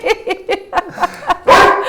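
A house dog barks in a quick run of five or six sharp, close barks, ending in a louder, longer yelp-like bark.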